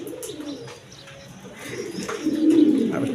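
A pair of Afsani Giriziyal pigeons, the hen sitting on two eggs, coo steadily and close by, with a low throaty murmur swelling toward the end and no voices.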